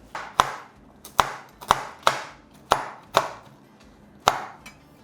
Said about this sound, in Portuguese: Eu vou picar um pouquinho com a minha faca, que eu gosto de colocar assim mais finamente